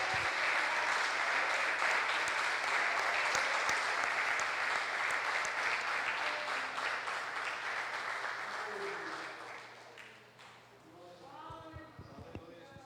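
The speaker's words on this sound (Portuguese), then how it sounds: "Vamos aplaudir ao Senhor?" A church congregation bursts into sustained applause, a dense crowd of clapping hands that carries for about ten seconds before fading out, with a few scattered claps and murmured voices at the end.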